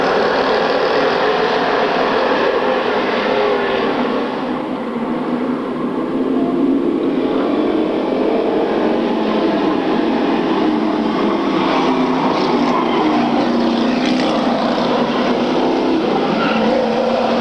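Oldsmobile and Pontiac race cars roar around a track at a racing event, a dense, continuous engine drone held at steady loudness throughout, with no voices over it.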